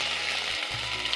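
A paste of ginger and green chili hits hot oil with a loud, steady hiss of frying that lasts the whole brief moment.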